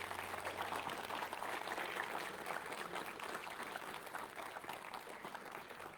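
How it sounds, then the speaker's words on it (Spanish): Church congregation applauding in praise during a Spanish-language sermon on Christ's return, a steady dense wash of clapping held at moderate level for the whole span without letting up. "Voy a darle un aplauso al Señor."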